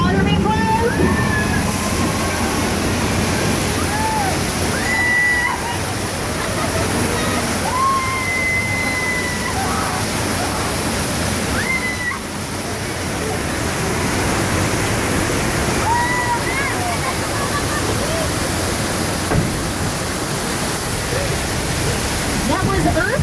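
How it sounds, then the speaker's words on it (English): Water gushing from a broken water main during an earthquake simulation ride, a loud, steady broadband roar and sloshing that continues throughout, with faint squeaks and voices in the background. "Oh no, the water main broke!"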